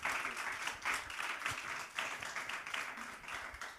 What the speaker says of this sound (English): So maybe a big applause first before we start with the...